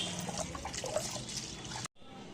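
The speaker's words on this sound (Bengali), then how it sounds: "এতে পরিমাণ মতন জল দিয়ে কিছুক্ষণ ভিজিয়ে রাখবো" Water poured over lentils in a bowl to soak them, a soft steady trickle close by that stops abruptly near the end.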